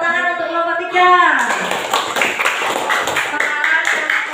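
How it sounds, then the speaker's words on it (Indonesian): Applause for a group of university teacher-training students in a classroom: dense, steady clapping from a small crowd that starts after a brief rising tone and carries on to the end. "Tepuk tangan untuk kelompok 3."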